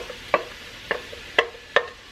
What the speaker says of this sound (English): I'm going to saute them in about 2 tablespoons of butter.